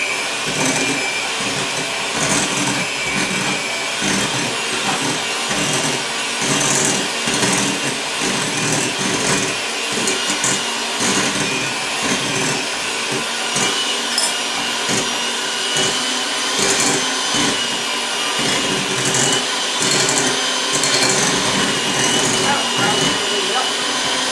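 Electric hand mixer beating cream cheese frosting for chocolate cupcakes, a steady loud continuous whir running throughout with brief speech over it.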